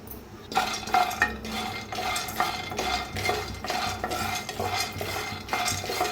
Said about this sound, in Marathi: अर्धी वाटी शेंगदाणा चांगलं भाजून घेऊया